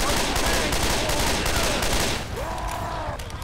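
Rapid gunfire in Left 4 Dead 2 as a zombie is shot, a dense, close burst of repeated shots lasting a couple of seconds before thinning into scattered rattles and ringing tails.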